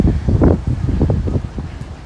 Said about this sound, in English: And it's getting pretty windy